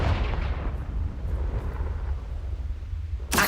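The Confringo blasting spell explodes in the video game Hogwarts Legacy with a deep, booming burst that decays into a low rumble, followed by a sharp new crack at the very end.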